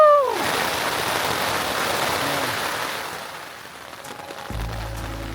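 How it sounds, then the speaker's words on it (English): Heavy rain pours onto a tent in the Sierra backcountry, a dense steady hiss drumming on the fabric, fairly close and continuous, with a brief electronic tone near the end. "And it's pouring."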